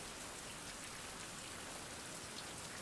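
Steady rain pours down in an open-world survival video game, a dense, even hiss of drops on surfaces that holds at the same level throughout with no voices over it.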